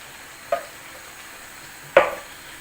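Tomato puree cooking in a pan, heard as two short, sharp sizzling bursts, the second louder and longer, over a quiet kitchen background.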